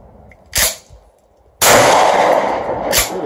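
A 12-gauge shotgun fires a Brenneke slug outdoors: a short sharp report early, then a much louder blast with a long ringing decay, followed by another brief crack near the end.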